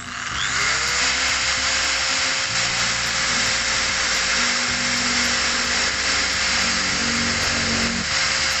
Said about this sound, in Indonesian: Dan bor ini sudah dilengkapi untuk bolak-balik putarannya juga.